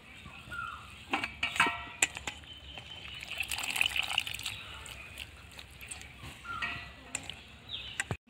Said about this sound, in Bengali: এইভাবে জলটাকে আমি নিগড়ে নেব।